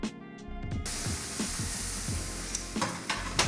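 Roasted pumpkin, marinated in red wine, tumbles into a pan of hot clarified butter and sets off a loud, steady sizzle with scraping and stirring clatter throughout, and no voices.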